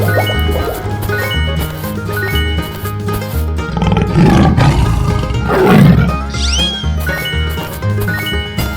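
Cartoon tiger roars burst out in a 3D animal sliding game over bouncy background music and splashy effects, two loud growling roars rising near the middle.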